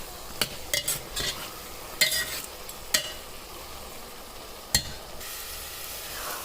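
Onions frying in a pan as the base for an Indian chana gravy, a steady hiss punctuated by several sharp scrapes and taps of a spoon stirring against the pan.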